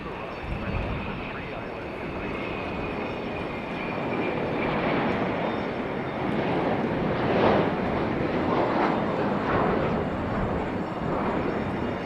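An airplane at Raleigh Durham International Airport, a steady broadband roar of jet engine noise holding loud and continuous throughout, with a faint voice talking underneath.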